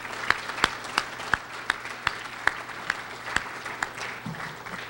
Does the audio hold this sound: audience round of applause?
yes